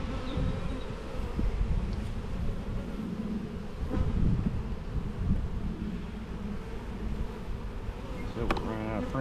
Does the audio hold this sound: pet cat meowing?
no